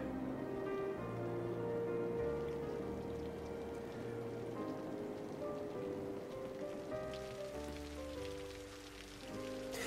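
Rain falls steadily in a city-building video game, a constant patter of drops mixed under gentle background music that continues throughout.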